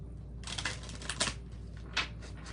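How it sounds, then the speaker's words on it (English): A deck of cards is shuffled close by in a few quick riffling bursts, faint and brief, with no talking. "I need to shuffle these."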